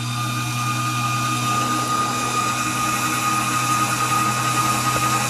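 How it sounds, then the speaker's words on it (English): Electric motor of a Tonno lid kit extending its arm, a steady close mechanical hum and whir at constant pitch, loud and unbroken, with no talk. "Brett's just going to power up the motor"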